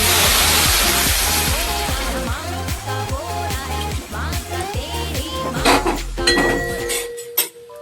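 Hot water poured into a pot of fried taro, with clinks and scrapes of a metal pot and utensils under a steady watery rush, the pour tapering off toward the end.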